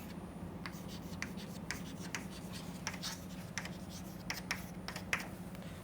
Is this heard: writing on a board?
yes